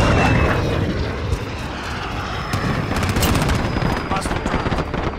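An aircraft roars through a Call of Duty Modern Warfare match, a loud droning engine mixed with rapid bursts of gunfire from a VTOL strike, continuous and close under rumbling battle noise.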